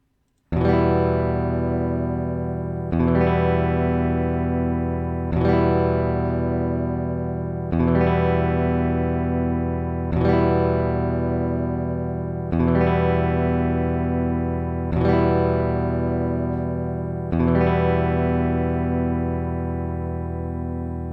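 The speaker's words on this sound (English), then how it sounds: "this will be the stock nut, and then it will go to the brass, stock, brass, stock" Eight strummed electric guitar chords, alternating between the stock nut and a brass nut, each ringing out and decaying before the next, evenly spaced and played loudly with a distorted tone.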